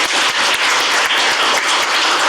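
Audience applause at a Korean forum seminar on North Korea and unification, honoring a congressman after his congratulatory speech: dense, steady clapping from a full room that fills the moment without pause.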